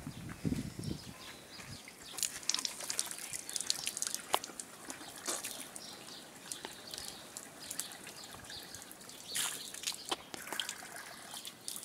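Water from a village school tap runs and drips steadily outdoors, with scattered small splashes and faint birds or farm animals in the background.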